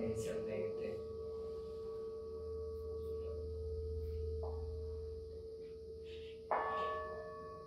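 A Tibetan singing bowl rings with steady, sustained high tones that hang in the air, joined midway by a fresh struck note that swells and slowly fades.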